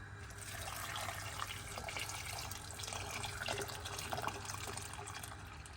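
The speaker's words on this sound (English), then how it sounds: "To that, we'll add in our water." Water poured into a pan of potatoes, a steady, close splashing and trickling stream with no talk, running evenly at moderate loudness throughout.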